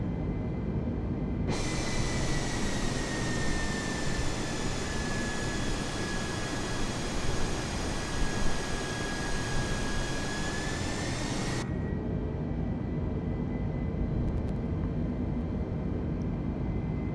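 Jet engines of an A320neo climbing in Microsoft Flight Simulator give a steady, loud broadband roar with a sustained whine that drops and then eases partway through, continuing alone without talk.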